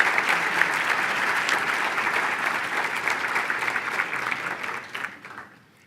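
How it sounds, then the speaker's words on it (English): Roomful of people applauds city workers at a State of the City event in Indio, a steady, moderately loud wash of clapping that fades out near the end. "they deserve a huge round of applause from everyone in the room."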